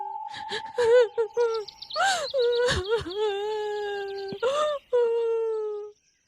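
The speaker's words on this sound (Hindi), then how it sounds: "ये क्या, किसी की रोने की आवाज?" A cartoon woman wails and sobs loudly, with long drawn-out crying moans broken by sharp sobbing breaths, close and alone.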